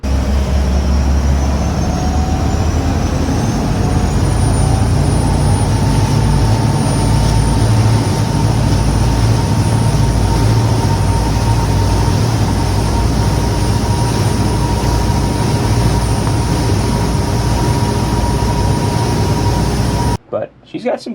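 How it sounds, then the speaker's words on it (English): A mechanically injected Volvo TAMD 63P inline-six diesel, 5.5 liters with a single fixed turbo, runs in a boat at a loud, steady drone with a rising turbo whine; a voice talks over it before it cuts off abruptly at the end. "So this is a mechanically injected diesel engine with our big old P-pump"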